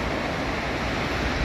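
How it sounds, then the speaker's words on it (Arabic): Sea waves crash against the shore at a fishing spot on the coast near Laayoune, Morocco. They make a steady, dense roar of surf and wash with no speech over it. "شوف الطرفه كيضرب البحر في العماره"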